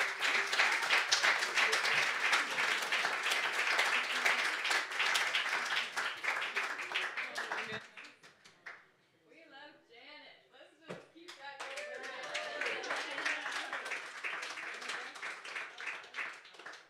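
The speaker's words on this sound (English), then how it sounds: "So give them a big round of applause and welcome." A small house-concert audience gives dense, sustained clapping for arriving musicians, fading to scattered claps and murmured talk before applause swells again.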